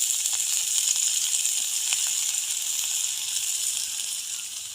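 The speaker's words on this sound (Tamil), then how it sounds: "எண்ணெய் கொதிச்சிட்டு நாங்கள் இனி வெங்காயத்தை போடுவோம்" Onion and green chilli frying in boiling oil give off a loud, steady sizzle that stays close and constant, with faint crackles scattered through it.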